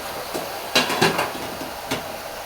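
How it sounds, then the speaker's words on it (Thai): Dishes and bowls clattering while being washed, a few sharp clinks and knocks scattered over a low background hiss, close by with no talking. "ถ้วยล้างจาน"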